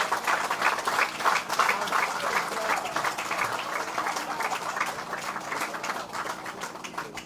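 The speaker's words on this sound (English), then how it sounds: "Give them a big round of applause." A crowd applauds outdoors at a sod-turning ceremony for a regional hospital in Moruca, with steady dense clapping over several seconds at moderate distance.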